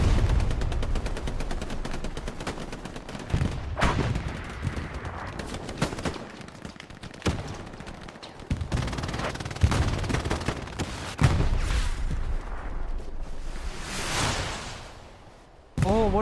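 A rocket shot and gunfire in the Hell Let Loose video game during a competitive match, with dense overlapping bursts of gunfire and loud booming blasts, sustained and close, while a voice talks now and then.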